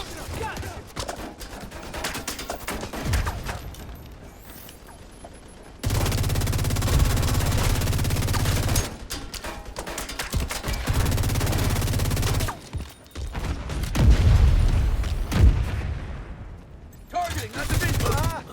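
Heavy automatic gunfire from The Division 2, with long sustained bursts broken by short pauses, loud and close, and faint voices mixed in at times.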